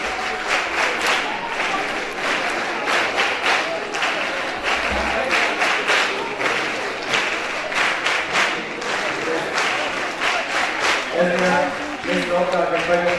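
Schoolchildren at a National Librarian Day assembly keep up sustained, rhythmic group clapping in a boys-versus-girls contest, dense applause with crowd noise throughout and a voice speaking near the end.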